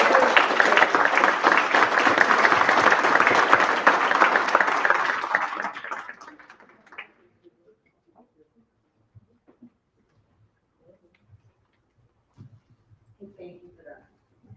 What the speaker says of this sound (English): please all give me a big round of applause and welcome to the stage